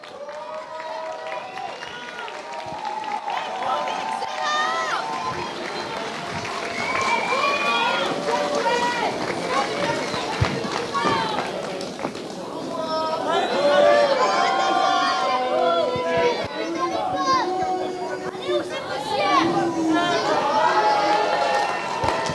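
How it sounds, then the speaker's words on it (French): An audience at a catch wrestling gala cheers and claps for the wrestlers, a loud, sustained crowd din of applause and shouts lasting throughout, with announcers talking over it. "je crois qu'on peut encore applaudir ces formidables catcheurs"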